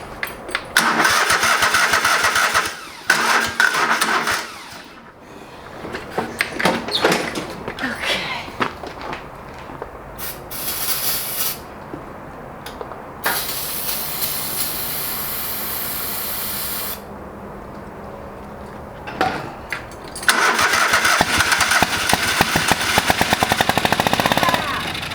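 An old lawn mower engine being revived sputters through several starting attempts with loud bursts and quieter gaps, then catches and runs loudly near the microphone.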